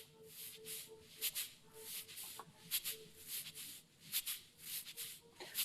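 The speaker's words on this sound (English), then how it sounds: "You know me, I love the cabasa." A cabasa shaker scrapes out quick, hissy rhythmic strokes that accent the beat like a hi-hat, sitting in a quiet sampled groove with soft bass and other instruments faintly underneath.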